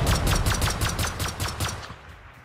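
Rapid automatic gunfire in the Rust console game on PS5, about ten evenly spaced loud shots in a quick burst, tapering off toward the end with no talk over it.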